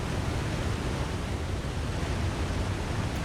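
A noisy waterfall rushes in The Long Dark survival game, a steady broadband roar that stays loud and close without pause for the whole stretch.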